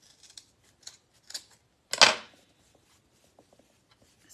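Scissors snip through jute twine for a dollar-store block garland: a few light clicks and small snips, then one crisp, louder cut near the middle, followed by quiet handling.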